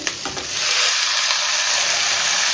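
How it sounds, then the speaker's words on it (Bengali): Aubergine, potato and green chili frying with onion in a pan give a steady, close sizzle that swells after a few soft clinks and holds loud and even, with no talking. "পেঁয়াজটা ভালো করে ভাজা হয়ে গেলে ওর মধ্যে একে একে সব সবজিগুলো দিয়ে দেবো।"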